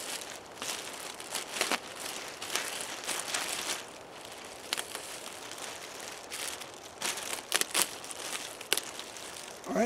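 A knife slices along the seam of a plastic trash bag, producing irregular crinkling and tearing rustles in bursts, close and moderately loud, with no talk.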